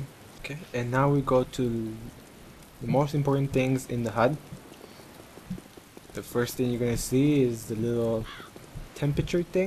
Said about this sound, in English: I'm sorry about the rain. I wasn't expecting it to rain inside a building.